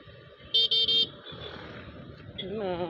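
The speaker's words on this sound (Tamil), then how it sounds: "அவர் ஹாரன் அடித்து கேட்டார் வழி விடலாமான்னு" A red car on the road sounds its horn in one short double-pulsed honk, loud and near, over steady traffic and engine noise, with a voice speaking toward the end.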